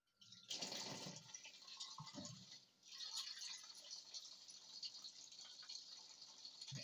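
Running tap water at a sink while hands are washed, a steady broadband splash starting after a brief pause and continuing throughout, with rubbing and small splashes under the flow.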